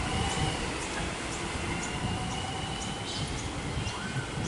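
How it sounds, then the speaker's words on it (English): A Glen Waverley line train pulls out of Mount Waverley station in Melbourne, a loud steady rumble of wheels and motors with faint high squeals running throughout. "So that was a Glen Waverley service departing"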